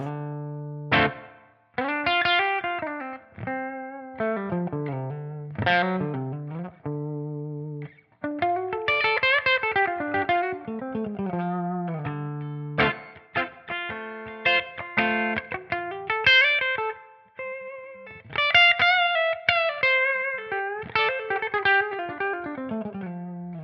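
A clean electric guitar through a Dumble-style amp model on a TONEX plays chords and single-note lines with a warm, smooth tone, ending on the neck pickup, phrases separated by brief pauses, no talking.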